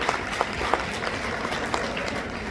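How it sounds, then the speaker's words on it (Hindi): Applause from the audience at a JSGIF Mewar Region Sangini Utsav event, welcoming Aastha Tated: steady, dense clapping from a full hall with a few sharper claps standing out, continuing throughout without talk. "चाहूंगा एक बार जोरदार तालियां आस्था जी तातेड़ के लिए।"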